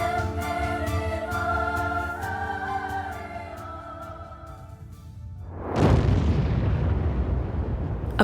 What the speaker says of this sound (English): A powerful blast produces what is called a shock wave.